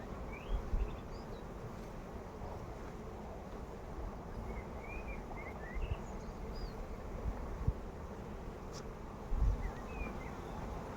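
Honeybees droning around an open hive during a hive transfer, a steady faint buzzing swarm with individual bees flying past, occasional soft knocks and no speech.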